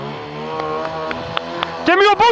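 A motorcycle engine rumbles close by at a steady idle, then revs hard twice in quick, rising bursts near the end, as if pushed for a burnout.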